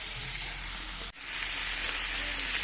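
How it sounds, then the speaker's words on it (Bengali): Meat is sautéed with salt in a hot pan, producing a loud, dense, crackling sizzle that runs continuously, broken only by a momentary gap, with no talking. "এবার ভালো করে কষিয়ে নেব"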